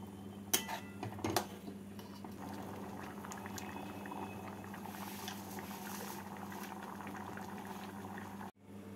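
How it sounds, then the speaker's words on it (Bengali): Mung dal with fried neem leaves and a little sugar boiling in a pot, a steady close bubbling simmer with a few clinks of a utensil against the pot near the start. "এবার ডালটাকে ভালো করে ফুটিয়ে নেব।"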